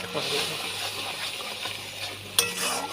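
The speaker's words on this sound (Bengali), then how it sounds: "মশলাটাকে এইভাবেই কষিয়ে নিতে হবে" Spice paste for a bhetki fish curry fries in oil with a soft, steady sizzle and stirring scrapes, ending with a sharp utensil clink against the pan.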